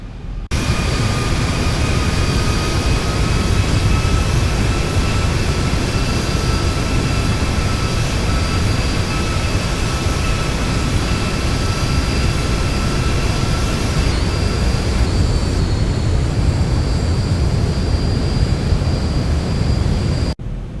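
Zibo Boeing 737 in the X-Plane flight simulator on approach with landing gear lowering: a loud, steady jet engine roar with whining tones that shift pitch partway through, alone without talk.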